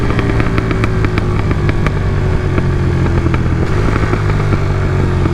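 A 2022 KTM 1290 Super Duke R's engine rumbles steadily up close, a loud, continuous mechanical drone with clattering ticks layered through it, holding a fairly even pitch for the whole stretch.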